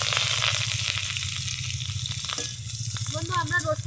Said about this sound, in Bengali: লাল লাল করে পেঁয়াজটা ভেজে নিলাম